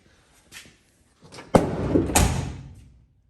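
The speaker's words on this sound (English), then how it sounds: "Door closes nice, locks with the key, unlocks with the key." A car door shuts with a solid thud, followed moments later by a second clunk as it is locked with the key; the surroundings are otherwise quiet.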